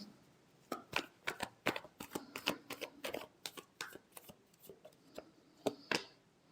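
Tarot cards being shuffled by hand, a quick run of crisp riffling flicks and slaps in an uneven rhythm, close and fairly soft with no talking.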